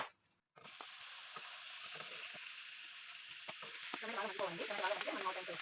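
Tomatoes sizzling in a pan with fried chana dal, a steady close frying hiss after a brief thump at the start, with faint stirring clicks and bubbling rising toward the end.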